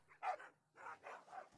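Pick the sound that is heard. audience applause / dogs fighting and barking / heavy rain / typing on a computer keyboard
dogs fighting and barking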